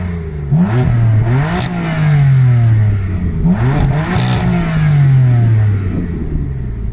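BMW M4 F82 with twin-turbo inline-six and quad exhaust, revved twice on a track: each rev climbs sharply, holds briefly, then falls away in a gravelly exhaust bark, loud and close, with no voices.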